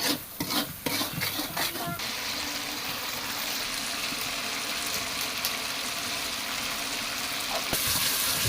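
Small local shrimp dropped into hot oil in a pan, with a continuous broadband sizzle and some stirring or scraping, steady and close throughout, with no talk.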